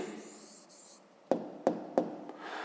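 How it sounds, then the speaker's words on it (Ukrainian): Handwriting an answer with a pen on paper: a soft scratching stroke followed by three distinct taps or short strokes in quick succession, close and quiet, with no talk. "Ну а тепер записуємо відповідь. Пишемо відповідь."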